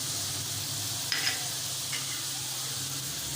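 Cumin and spices hit hot oil in a pan of fried cabbage, a steady close sizzle and hiss with a brief sharper burst of crackle as they go in.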